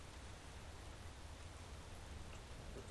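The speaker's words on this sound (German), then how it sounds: "Ja, es regnet auch immer noch." Steady rain falls in the Space Engineers video game, an even, faint hiss of dense drops that stays constant without any talk.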